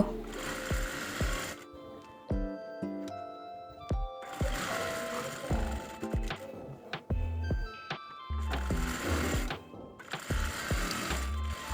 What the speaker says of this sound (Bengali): এখন আমি বডিটা জয়েন দিব বগল থেকে কোমর পর্যন্ত সেলাই করে নিব